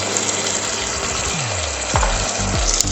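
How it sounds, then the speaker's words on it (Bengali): Tomatoes frying in a pan with salt for a vegetable dal, a steady loud sizzle with a few sweeping scrapes of a spoon stirring near the end. "এই সময় নুনটা দিলে টমেটোটাও খুব তাড়াতাড়ি ভাজতে ভাজতে গলে যাবে"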